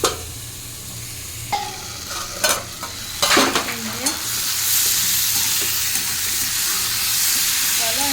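Ingredients for khichuri frying in a pan, a continuous sizzle with several sharp spatula scrapes and stirring clatters early on, then a steadier hiss, close and fairly loud with no talking.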